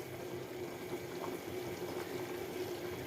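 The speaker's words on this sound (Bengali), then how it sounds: "তরকারি বলক উঠে গেছে" Curry bubbles at a rolling boil in a pot, a soft continuous gurgle and hiss at low volume with no voices.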